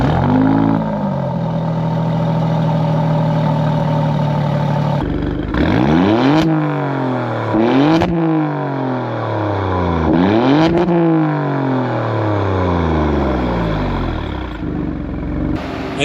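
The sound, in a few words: Alfa Romeo Stelvio Quadrifoglio engine revving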